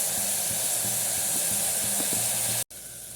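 Onion, ginger, garlic and green chili sizzling in hot coconut oil for a beef potato curry, a steady close frying hiss with soft crackles, briefly cut near the end.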